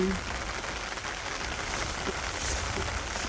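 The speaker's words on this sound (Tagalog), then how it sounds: "Umuulan na naman." Steady rain falls outdoors over a home squash garden, an even, continuous hiss with a few faint drops standing out.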